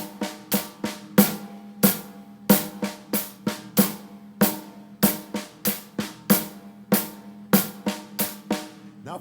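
Drum groove played with the hands only, no bass drum, a steady pattern of sharp snare and tom strokes at moderate volume, alone without talk.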